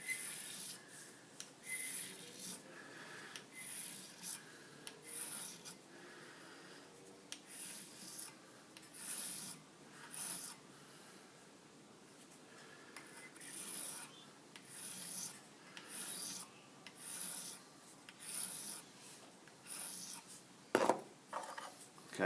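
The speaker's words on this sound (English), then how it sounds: "So to file a radius properly, that's not really the way you want to do it, around that way." A metal file rasping across a radius on a metal part, a series of short, quiet, rhythmic scraping strokes with brief pauses between them, close by and heard alone.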